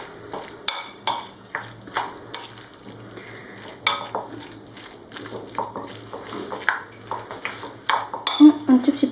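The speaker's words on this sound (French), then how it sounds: "Et je vais bien mélanger." A spoon mixes olive tapenade in a bowl, with olives, dried thyme and lemon juice, giving irregular sharp clinks and scrapes against the dish, close and fairly loud, with soft wet stirring between the knocks.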